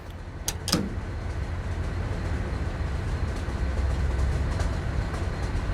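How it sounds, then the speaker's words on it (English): A constant low rumble of a runaway train speeding downhill rolls on steadily, with a couple of sharp clanks near the start and no voices. "The train was speeding."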